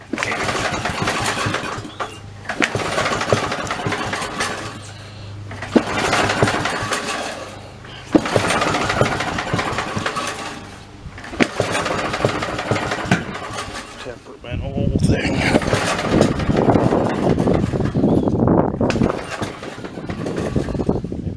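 A Snapper 3081 riding mower, sitting in neutral with the throttle up, cranks in several rhythmic bursts and then the engine catches and runs with a loud, rough, steady roar, heard up close.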